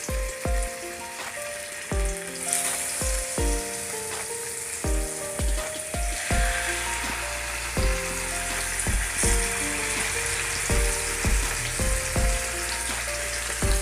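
Surmai fish pieces fry in hot oil with a steady, dense sizzle close by, broken by recurring low clatters and knocks from the pan, with no talking.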